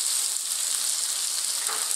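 Sliced onions stir-frying with beef, peppers and green beans in hot oil for a Chinese pepper steak, giving a steady, close hiss of sizzling across the whole short moment with no voices.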